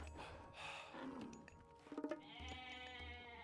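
Goats in a real-time strategy game bleat faintly a few times, with thin wavering calls mixed among quiet game sound effects and short clicks.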